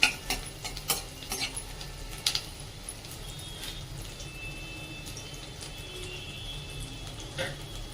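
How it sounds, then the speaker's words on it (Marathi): Chopped garlic and ginger sauté in ghee and butter in a pan, giving a steady soft sizzle with scraping spoon strokes and a few clinks near the start. "थोडस आलं आलं आणि लसूण छानपैकी असं परतून घेऊया"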